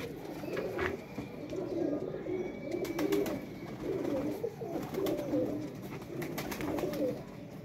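Several pigeons coo repeatedly nearby, overlapping low rolling calls in a steady rhythm with a few faint clicks and rustles, birds kept for a pigeon-flying competition.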